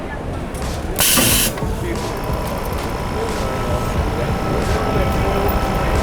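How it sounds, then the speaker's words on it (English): An air pneumatic heat press pressing a DTF transfer gives a sharp burst of air hiss about a second in, then settles into a steady mechanical rumble with low background noise. "Definitely recommend an air pneumatic heat press."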